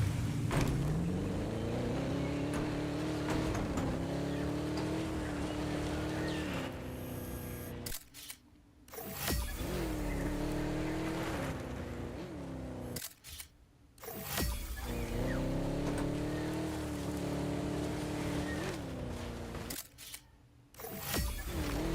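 A vehicle in Jurassic World Evolution 3 drives with a steady engine drone that rises and holds under the throttle, broken by several brief sharp cuts where the sound drops out, with no talk.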